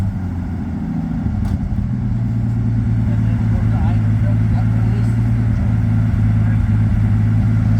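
Bombardier vehicle engine running steadily in a shop, a loud continuous low rumble with an even idle throughout, no talk over it.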